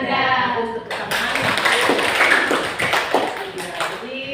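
Hands clap together in an Indonesian school classroom, a dense run of sharp, close claps that begins about a second in and carries on steadily to the end, with voices heard briefly at the start.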